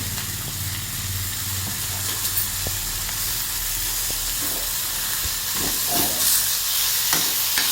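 Onion masala frying with salt in a pan for Kerala egg roast, a dense steady sizzle and hiss with occasional light stirring scrapes throughout.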